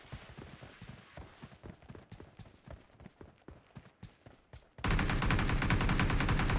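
Gunfire in the BGMI battle royale game arrives as rapid bursts of sharp shots, uneven and moderately loud, then gives way to a sudden dense wall of louder continuous noise near the end.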